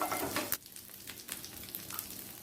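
Curry leaves hit hot oil for a dhokla tempering and burst into a loud, crackling sizzle that drops quickly to a softer, steady fry with scattered pops.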